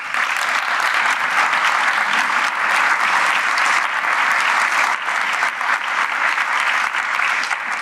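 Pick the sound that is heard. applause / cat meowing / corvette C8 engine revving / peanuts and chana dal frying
applause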